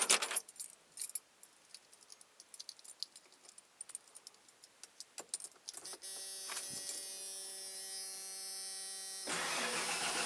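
Keys jangle and click in the ignition of a 1992 Ford F-150, then the engine cranks and starts, settling into a steady idle with a whining tone before revving slightly higher at the end.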